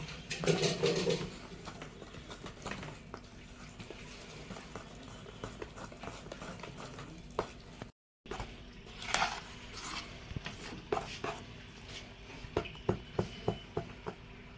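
A spoon cracking something while a cake is being made: sharp, fairly quiet taps and clicks land in an irregular run through the second half, amid soft kitchen clatter and handling noise.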